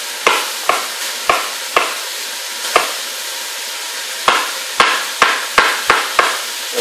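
Chicken chunks fry in a pan while a utensil stirs and knocks against it, a dozen sharp scraping clacks at an uneven rhythm over a steady close sizzle.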